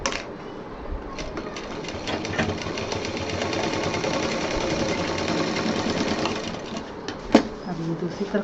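An electric sewing machine stitching a homemade designer bottle case, a rapid steady whirring run of needle strokes lasting several seconds, fairly close and loud, with a sharp click near the end.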